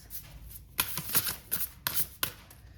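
Tarot cards being shuffled by hand in quick bursts, a few crisp riffling snaps and slides spaced over a couple of seconds, close and fairly quiet with no talking.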